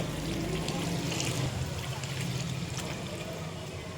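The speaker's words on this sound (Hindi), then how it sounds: "अब हम फ्लेम को मीडियम कर देंगे, लो, और हम 2 कप पानी ऐड कर देंगे" Two cups of water pour into chicken cooking in a pot over a medium flame, a close, continuous gushing and sizzling that holds steady for several seconds.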